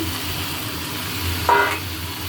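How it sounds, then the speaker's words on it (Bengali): Chicken and potatoes sauté together in a pan with a close, dense sizzle. A brief louder hiss and tonal squeal rises midway, then eases back to a steady fry, with no one speaking. "এটা ভালো করে কষা, চিকেন কষা হচ্ছে"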